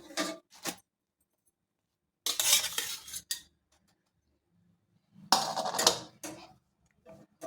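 Onion egg omelette is scraped from a pan onto a plate, making two short bursts of utensil-on-metal scraping and clinks separated by silence, close and fairly quiet.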